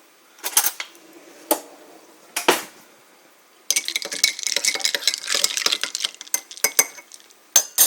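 A spoon stirs iced coffee with milk, first a few separate clinks against the glass, then a quick run of rattling taps and clinks as the ice is stirred.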